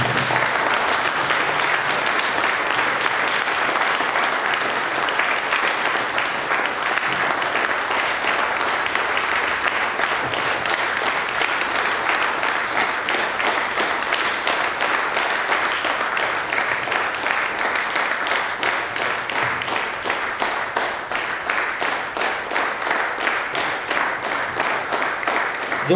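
Sustained, dense applause from an audience at a first-anniversary celebration as a couple walks onto the stage, steady and loud throughout with no break.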